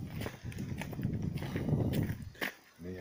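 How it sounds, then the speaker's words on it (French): Horses walking on a path outdoors give a steady run of soft hoof clip-clops under light background noise, with a brief pause near the end. "J'ai vu qu'il y avait des chevaux."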